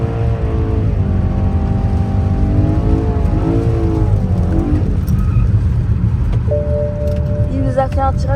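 A BMW M3 E93 drifts with a handbrake pull, its engine roaring loudly and revving up and down throughout, with tire noise and people talking over it inside the car.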